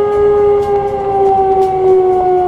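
Emergency siren at a fertilizer plant's employee colony sounds as a steady, loud mechanical wail holding one pitch throughout, continuous with no pauses.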